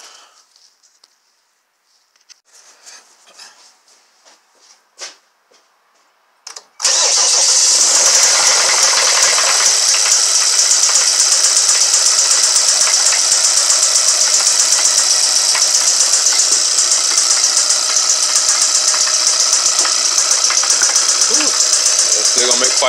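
A neglected Kia Sorento 2.4 engine cranks and fires after several quiet seconds of faint handling noises, then runs loud and steady with a constant harsh, clattering knock for the rest of the clip.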